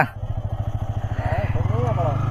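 Motorcycle pulling away on a mountain ride: a close, rhythmic engine thump that quickens and rises in pitch as it accelerates, with a voice heard over it.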